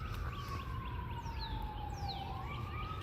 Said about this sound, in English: There's an ambulance over there.